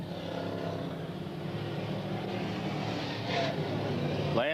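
Pure stock race cars circle a track at Freedom in 1993, a steady broadband roar of engines drifting past at moderate distance, rising slightly near the end as a car closes in.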